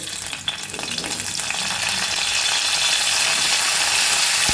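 Mustard seeds and curry leaves fry in hot coconut oil, starting quieter with a few pops and building to a loud, steady, crackling sizzle close by, with no voices.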